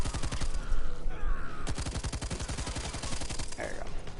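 A shotgun fires in a video game: a rapid, regular volley of loud, close shots repeats steadily from start to finish, with no pause between bursts.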